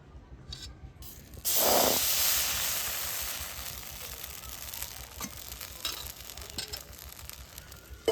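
Rice flour batter poured into a hot kadai for chitoi pitha gives a sudden loud sizzling hiss that gradually settles into a softer crackling fry, with a few clinks.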